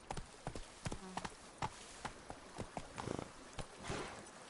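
Hooves of Roach, a horse in the video game The Witcher 3: Blood and Wine, clop in a quick irregular rhythm, close and fairly faint, with a voice briefly heard.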